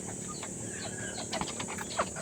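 A hen clucks among farm chickens, a few short scattered clucks and squawks over a constant background hum, fairly close but not loud.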